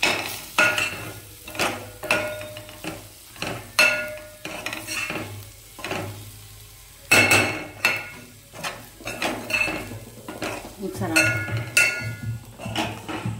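Turmeric and ginger-garlic paste being stirred and fried in a pan: repeated scraping and clanking of a spoon against the metal pan in irregular bursts, with a faint sizzle underneath and quiet pauses between strokes.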